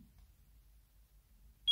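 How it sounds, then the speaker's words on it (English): Topsky Prime 1S FPV goggles give a single short, high electronic power-on beep, sharp and close, right at the end after near silence. "you're going to hear a beep that will indicate that the goggles will be turned on"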